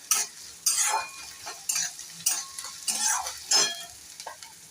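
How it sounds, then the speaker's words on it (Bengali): Chopped green chilli frying on high flame, with loud bursts of sizzling spatter and scraping stirring strokes in uneven pulses, close by, no talking. "একটুখানি এটাকে একটু ভেজে নিই। এটা পুরোটা হাই ফ্লেমেই করব।"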